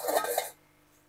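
A metal lid goes onto a pot of vegetarian flat bean and potato curry on the stove. One short clatter and scrape rings briefly, then fades to near silence.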